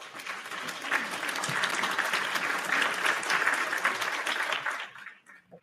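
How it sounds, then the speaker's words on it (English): A live audience breaks into warm, sustained applause, a dense clatter of many hands that holds steady, then trails off quickly at the end. "Another warm round of applause"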